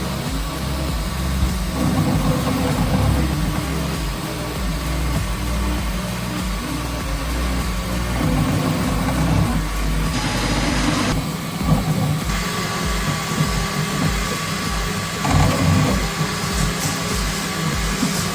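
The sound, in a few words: 3D printer printing, print head moving fast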